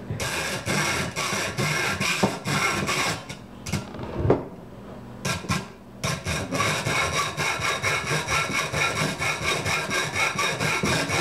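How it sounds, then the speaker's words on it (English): A hacksaw rasps through a bowfishing reel handle clamped in a vise, with steady back-and-forth strokes, a short pause midway, then resumed rhythmic cutting close up. "then just take your hacksaw and cut it"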